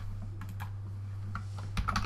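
Fingers tap quickly on a computer keyboard in a quiet room, a faint run of light key clicks over a steady low hum, with no voices.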